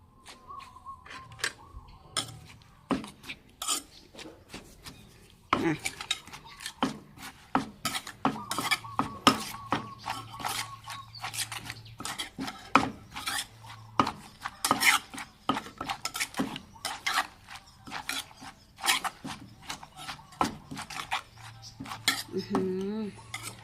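Thai papaya salad being made as papaya strips are added and mixed, with many quick clacks, taps and scrapes of utensils against a bowl in an irregular, busy rhythm that goes on throughout, close and fairly loud.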